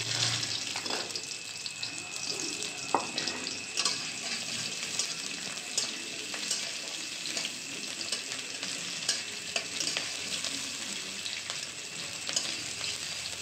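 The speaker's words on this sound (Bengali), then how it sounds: "পেঁয়াজ কুচি দিলাম" Chopped onions sizzle in hot oil with black cumin in a kadai, a steady bright hiss broken by repeated scraping clicks of stirring, heard close and without talk.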